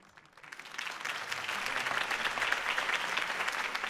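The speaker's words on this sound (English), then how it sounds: "could have heard that applause" Applause rises quickly from a sparse start into a dense, sustained clapping of a sizable crowd, continuing steadily at a moderate distance.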